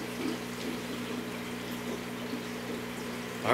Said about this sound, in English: See the air bubbles going through there because I just started it